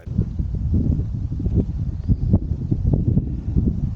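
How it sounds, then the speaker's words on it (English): Steady low rumbling wind buffeting a 360 camera's microphone outdoors, with irregular thumps and gusts throughout and no voices. "It's pretty windy, so I'm kind of testing out the microphone on the 360."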